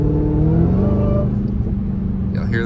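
A Hellcat's engine hums steadily with a faint rising whine while driving in morning traffic, a close, continuous drone that holds at one level throughout.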